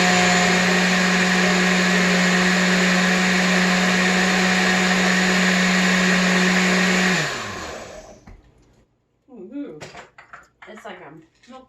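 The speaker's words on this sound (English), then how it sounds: "The blender puts air in it." A blender whirs loudly and steadily while mixing a fruit smoothie, then winds down and stops after about seven seconds, followed by quiet clinking and a brief voice.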